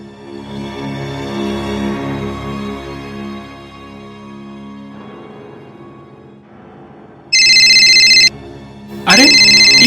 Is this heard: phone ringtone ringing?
yes